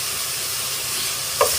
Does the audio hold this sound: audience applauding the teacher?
no